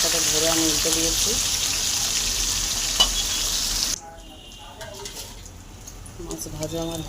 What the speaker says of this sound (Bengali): সব মাছ একসাথে ধরে আমি উল্টে দিয়েছি।